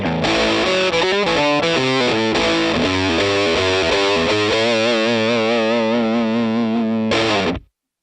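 Distorted electric guitar played through a HeadRush pedalboard rig, loud and continuous, with chords and single notes ringing out for about seven seconds before stopping abruptly.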